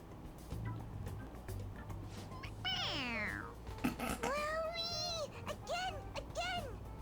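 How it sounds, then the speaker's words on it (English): A stuffed toy cat in Persona 5 Royal gives repeated high, sliding meows each time it is pressed, several in a row over a low game background hum. "It meows when you press on its head."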